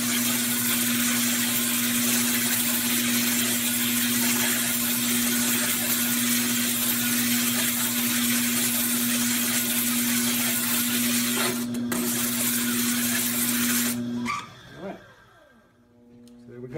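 Grinder flattening the bottom of a crystalline-glazed pottery piece, a loud continuous whirring drone with gritty scraping on top that cuts off sharply near the end.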